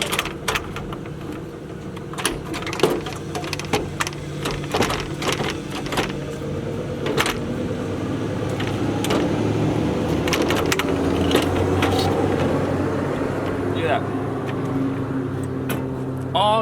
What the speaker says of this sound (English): now we're just gonna pull the radiator out.